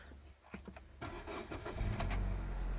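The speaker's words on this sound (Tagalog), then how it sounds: "so try natin i-start ngayon" A Honda City car engine cranks and catches after a check-engine fault is cleared, a short starter whir followed by the engine settling into a steady, loud low rumble close by.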